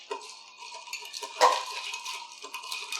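A Commodore Daiquiri stirred with ice in a mixing glass: a steady run of light clinks and rattles, one sharper knock near the middle, close and fairly quiet.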